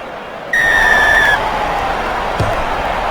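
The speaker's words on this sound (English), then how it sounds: "There's the whistle, and we're underway." A referee's whistle starts a Six Nations rugby match between Italy and France, one long, shrill blast lasting about a second over the steady roar of a stadium crowd, which carries on after it.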